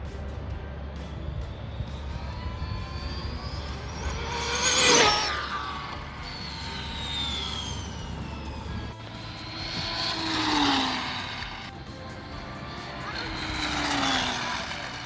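A high-speed RC car on a 4S battery whines past in loud rising and falling sweeps, with two strong close passes around five and eleven seconds over steady background hum.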